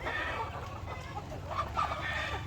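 White leghorn hens in a battery cage cluck and murmur softly in a steady chorus at moderate distance, with a few higher calls rising above the low flock chatter.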